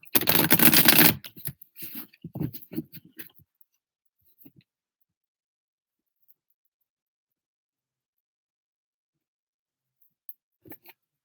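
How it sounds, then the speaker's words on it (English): A burst of card shuffling riffles loudly at the start, followed by a few softer card taps and handling clicks, then near silence with a faint tap at the end. "Two more shuffles."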